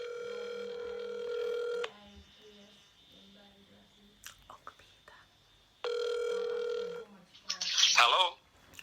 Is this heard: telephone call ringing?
yes